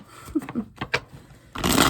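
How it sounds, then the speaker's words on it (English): Tarot cards are shuffled by hand in quick, close riffles and taps, ending in a louder rushing burst of cards. "I'm going to shuffle again because he's already fighting me on the cards"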